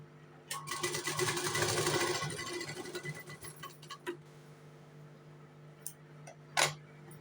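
A sewing machine stitches piping strips onto a 32-inch-chest four-tuck blouse, running in a steady rapid burr for about two seconds, then slowing into scattered clicks and short bursts, close and moderately loud with no talk.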